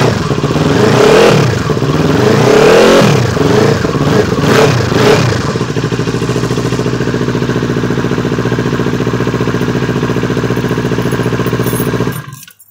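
Motorcycle engine revving hard in cold winter air, loud and close, with several sharp throttle blips over the first six seconds before settling into a steady rumbling idle that cuts off at the end.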